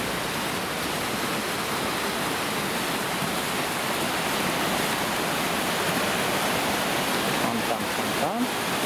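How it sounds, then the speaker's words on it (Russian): A night fountain in Moscow splashing steadily, with a dense, continuous rush of falling water close by and no talking. "Фонтан."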